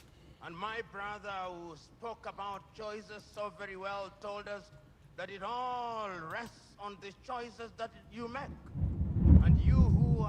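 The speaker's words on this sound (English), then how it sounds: "Oh, thunder, you can hear that in the background." Deep thunder rumbles near the end, swelling into a loud low roll beneath a man giving a speech in Lagos, whose talking runs throughout.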